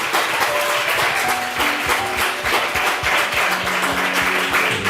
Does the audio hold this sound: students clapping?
yes